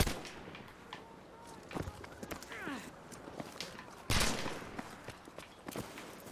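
Gunfire in the video game Battlefield V is aimed at the player: scattered sharp shots and impacts over a busy in-game battle background, with one louder crack standing out midway.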